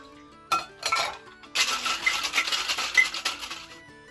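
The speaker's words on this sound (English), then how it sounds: "we're going to shake this with ice in a shaking tin and then pour it back into the glass" An Irish whiskey cocktail is shaken hard with ice in a metal shaking tin, giving a short clink and then a steady run of rattling, clattering ice, close and loud.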